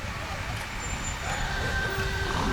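Army Condor 125S boom truck rolling past in a Veterans Day parade, a steady broadband engine and road rumble with a faint hiss and high whine, close and continuous throughout.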